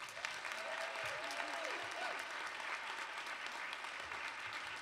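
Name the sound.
audience applause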